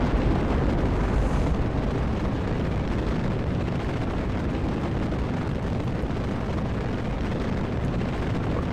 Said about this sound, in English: Fire the SRBs and let go.